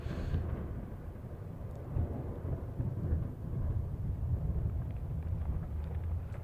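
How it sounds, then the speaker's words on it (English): Video game thunderstorm with a steady roar of wind and rain and low rumbling thunder, continuous and fairly loud throughout. "Oh shit, storm."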